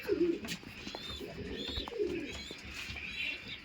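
Pigeons coo in low, throaty bursts, close by, mixed with a few brief chirps and faint rustling.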